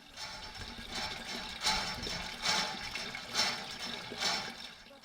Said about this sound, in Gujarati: ભર તડકાની આ દળમજલ બાદ શરૂ થાય છે હેન્ડપંપના હલેસાનો સિલસિલો.